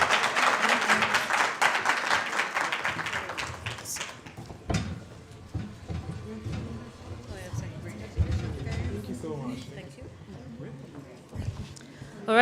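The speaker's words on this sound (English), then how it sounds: "Let's clap for them as they come on stage." An audience claps for debaters coming on stage at an International Migrants Day event in Kenya, the dense clapping fading after a few seconds into scattered thumps, movement and indistinct voices.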